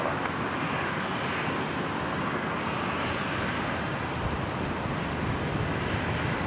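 QantasLink Dash 8 turboprop taking off from runway 01 left at Brisbane Airport, a loud, steady broadband engine roar that holds continuously with no voices.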